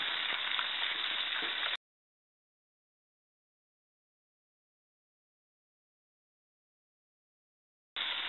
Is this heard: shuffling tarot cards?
no